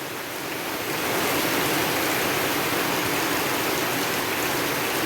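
Torrential afternoon rain hammers down on a roof in a flooding storm, a loud, unbroken wash of hissing noise that swells in the first second and then holds steady, with no one talking.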